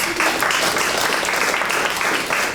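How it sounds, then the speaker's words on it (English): A packed room at a community television station's annual meeting breaks into steady, full applause for its board members, close and continuous for the whole short stretch. "Can we please give them a round of applause?"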